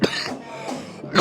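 A man coughs, giving a short, harsh burst with a throaty rasp, close and loud, followed by another brief cough at the end.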